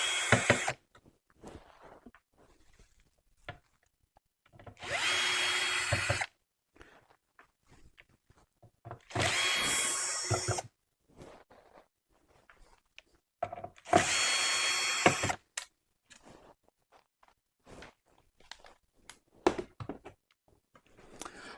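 A power drill spins in four loud bursts of a few seconds each, working on the doghouse engine cover of a car, with quiet clanks and footsteps in the gaps between.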